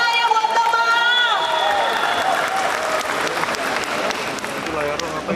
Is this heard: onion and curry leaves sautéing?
no